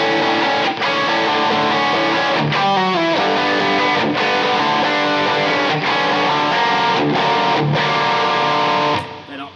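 An electric guitar played through distortion with no delay pushes out loud, sustained, thick chords throughout, ending with a brief drop-off.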